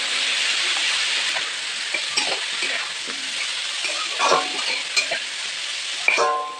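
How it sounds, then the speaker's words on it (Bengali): Cauliflower florets with a pinch of turmeric fry in hot oil in a pan, giving a steady close sizzle with scattered stirring scrapes and a few sharper clinks toward the end; no voices. "বন্ধুরা দেখো ফুলকপি ভাজা হয়ে গেছে"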